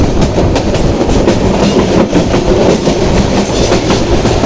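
A train on the Dhaka to Sylhet line in Bangladesh rumbles along the tracks with rhythmic clickety-clack, loud and close, continuous throughout with no voices.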